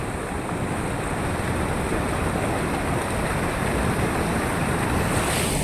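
Full-flowing Ghee river water near the Bhatgam dam in a small village, a steady broadband rush that stays loud and unbroken from start to finish with no voices.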